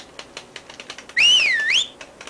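A single clear whistled note in the video game Majora's Mask rises and bends for about a second, set against a rapid series of soft typewriter-like clicks.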